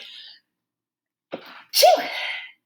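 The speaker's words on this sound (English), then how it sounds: "Sneeze. Sorry." A single loud sneeze bursts out close to the microphone, preceded by a short intake of breath, with a brief moment of talk at the very start.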